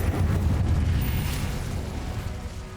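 Incendio fire spell cast in Hogwarts Legacy, a loud, dense low-end whooshing burst of flame that sustains for a few seconds before slowly tapering, with no talking.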